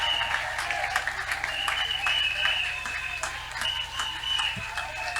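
A church congregation applauds and claps steadily throughout a worship service, a dense continuous wash of hands filling the room with no pauses.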